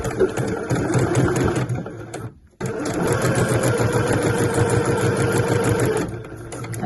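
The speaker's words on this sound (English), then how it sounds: "I'll do a couple of back stitches to begin with" A sewing machine runs steadily and close by while stitching the internal patch pocket of a weekender bag, with a whirring, rapid mechanical rhythm that stops briefly partway through, then resumes for several more seconds.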